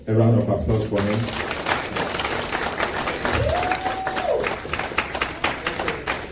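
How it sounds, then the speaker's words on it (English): A crowd at an NDC-Atlanta political gathering applauds, with steady clapping running for several seconds under a voice speaking over it and a brief tone gliding through the middle. "Could you please give a round of applause for him?"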